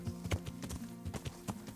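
Horse hooves clip-clop at a steady walking rhythm in the medieval game Kingdom Come: Deliverance, the hoofbeats fairly close and moderately loud, with no talking over them.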